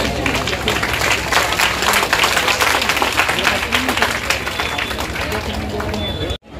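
Audience applause at a student award ceremony honouring successful intermediate and matriculation students, dense continuous clapping from a crowd for several seconds, with voices mixed in and an abrupt stop near the end.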